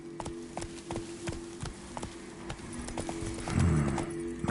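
Roach the horse in The Witcher 3: Wild Hunt on PS5 pounds along in a clear, close clip-clop rhythm of repeated hoofbeats, with a low steady drone underneath and a louder rumble near the end.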